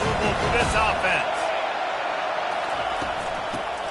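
Stadium crowd roar at a college football game, a steady broad wash of thousands of fans that stays loud and even throughout, with commentators talking over it.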